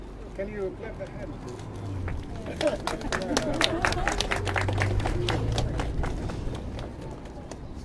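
An audience claps at a post office opening ceremony in Aldershot, England, honoring the local mayor and councillors. Dense, irregular hand claps build after the first couple of seconds and continue steadily, with voices chattering through the crowd.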